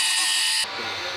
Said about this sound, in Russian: торцую ножки клапана на требуемую величину